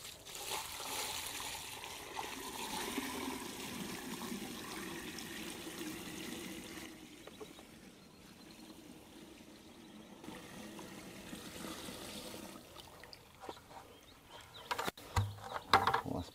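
Water from a bucket is poured into a yard drain, giving a steady rushing, splashing flow that slowly tapers toward a quieter trickle, with a few handling knocks near the end and no talking.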